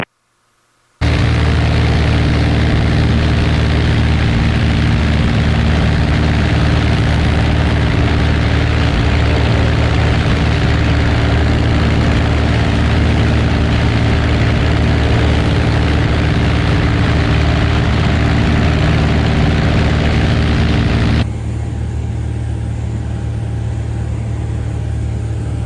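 A small propeller aircraft's engine drones loud and steady throughout a crosswind landing on runway 24 at Shannon in the Virginia Piedmont, its tone shifting slightly lower near the end.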